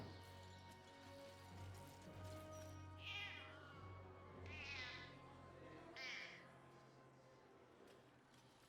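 A cat in the video game Baldur's Gate 3 meows three times in drawn-out cries, spaced a second or two apart over a busy low background drone.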